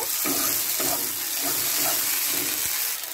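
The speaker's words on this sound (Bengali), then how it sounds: "মটরশুঁটিটা দিয়েও একটু নেড়ে দেব।" Green peas frying with ginger and garlic in a pan for a cauliflower and prawn curry, stirred with a utensil; a steady close sizzle with a few soft scraping strokes.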